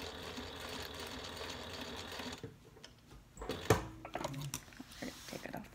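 A sewing machine stitching a bag whirs steadily for a couple of seconds, then stops, followed by faint handling clicks and thumps.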